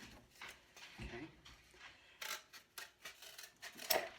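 Scissors snipping a paper mask beak, several quiet close cuts in an uneven rhythm with light rustling of paper.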